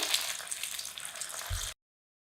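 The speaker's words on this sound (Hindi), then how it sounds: "एक एक करके नाश्ते को डालते हैं" Steady crackling sizzle of bread and potato snacks frying in hot oil over a low-to-medium flame, fairly close, continuing for under two seconds before cutting off abruptly.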